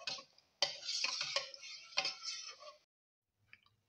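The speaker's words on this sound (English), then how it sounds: "Now mix the grape juice" A spoon stirs grape juice mixed with coconut milk in a bowl, giving quick scraping and clinking strokes for a few seconds close by, then a faint tap after a pause.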